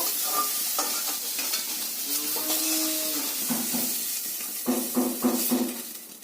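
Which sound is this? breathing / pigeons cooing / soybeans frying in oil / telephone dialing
soybeans frying in oil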